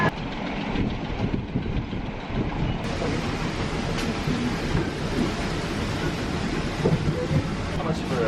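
A passenger train rolling from Weligama to Galle in Sri Lanka rumbles and rattles continuously from onboard, a dense loud clatter filling the whole stretch with occasional louder jolts.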